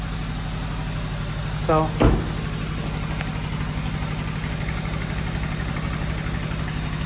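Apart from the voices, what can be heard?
car engine idling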